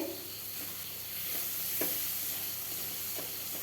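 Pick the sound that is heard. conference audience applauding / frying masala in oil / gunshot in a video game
frying masala in oil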